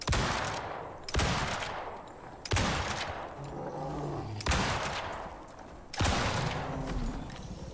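Gunfire in the Icarus survival game, shots fired at a polar bear during an ice storm expedition: five loud, spaced single blasts, each trailing off in a long rumbling echo.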